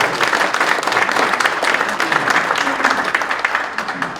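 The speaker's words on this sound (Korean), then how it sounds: "박수를 부탁드립니다." An audience claps steadily in dense, sustained applause for church elders standing at a Korean regional elders' association general assembly thanksgiving service, the clapping even and full throughout.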